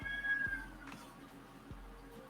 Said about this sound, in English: Is the cat we hear yours, Amanda?